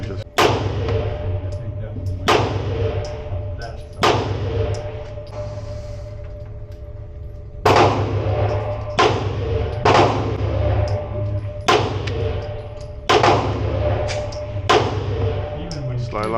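A Canik Rival-S pistol fitted with a Wasatch +5 magazine extension fires shot after shot, loud sharp reports ringing out at uneven intervals, some in quick pairs and others well spaced, with the echo trailing off after each.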